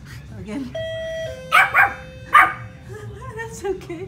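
Two-note doorbell chime followed by a small Pomeranian's shrill, rapid barks in two close bursts, with a person talking faintly underneath.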